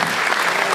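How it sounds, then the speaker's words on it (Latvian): Concert audience applauding at a brass orchestra performance, a steady dense wash of clapping hands filling the hall for a brief moment. "Pateicamies par aplausiem."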